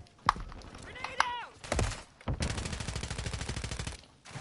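Automatic gunfire in Call of Duty: Modern Warfare 3, a few sharp single shots followed by a sustained rapid burst lasting nearly two seconds, mixed with game effects and a brief voice.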